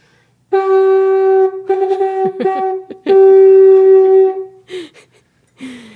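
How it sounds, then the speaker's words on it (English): A sampled conch shell played as a Rhodes-style electric piano gives warm tones: a few sustained notes and short broken phrases, with brief pauses and a faint breathy sound near the end. "Ableton Simpler sampled the conch, turned it into basically a Rhodes sound."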